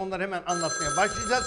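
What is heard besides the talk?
telephone bell ringing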